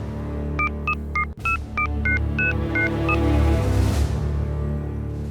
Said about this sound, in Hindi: इंदु कहीं उसे साथ लेकर ना आ जाए, उससे पहले मुझे फोन करना होगा।